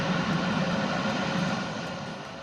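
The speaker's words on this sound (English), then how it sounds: "Watch this plane." An airplane flying at low speed overhead gives a steady, broad engine drone that holds constant and eases slightly toward the end. No one speaks over it.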